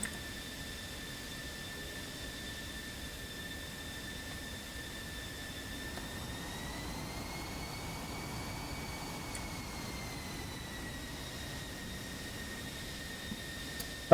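F-15 jets taking off and climbing in the DCS flight simulator give a steady, faint, distant whine over a constant airy hiss, with the pitch rising slightly midway.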